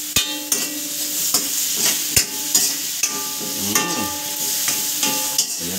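Radish and yellowfin tuna sautéing in a pan for sinigang, with a steady sizzle and repeated close clacks and scrapes of stirring, no voices.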